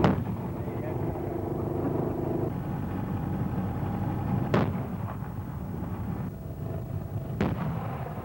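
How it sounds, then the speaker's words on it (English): Paladin self-propelled guns firing artillery at positions on the outskirts of Baghdad, two sharp booming reports several seconds apart over a constant engine and vehicle rumble, heard at a distance. "Paladin self-propelled guns pound Iraqi positions from the outskirts of Baghdad."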